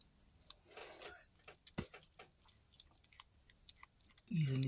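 A week-old kitten chewing a mouse, giving faint, irregular wet crunches and clicks up close, with one sharper snap midway and a louder rustling burst at the end.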